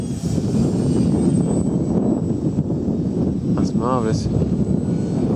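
Model aircraft motors buzz steadily overhead at a flying field, a constant airborne drone under people chatting nearby.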